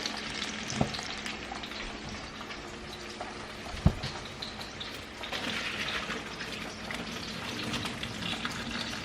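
Cooking water from boiled salt codfish is poured off in a kitchen, a continuous soft watery rush with sizzling hiss and a couple of sharp knocks, fairly quiet and with no talking.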